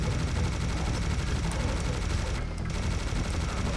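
Minigun firing in Serious Sam HD, a continuous loud rattle of rapid gunfire sustained across the whole stretch with only a brief dip midway, dense and close.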